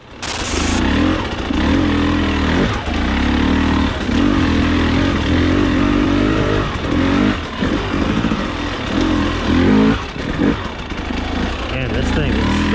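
A 2021 TX300i hard enduro two-stroke dirt bike being ridden over rocks, its engine loud and close, revving up and dropping off repeatedly as it climbs, with wind buffeting throughout.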